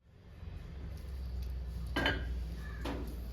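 A lid set down over a pan of Kerala-style pumpkin pachadi, giving two brief metallic clinks about a second apart over a low steady kitchen hum.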